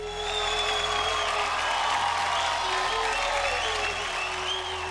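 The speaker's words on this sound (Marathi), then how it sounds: "तू ज्या जिद्दीनं नाचलीस त्याच्यासाठी जोरदार टाळ्या होऊनच जाऊ दे" A studio audience gives a dancer loud, sustained applause on a television dance show, dense clapping with faint crowd voices throughout, steady and close for the whole stretch.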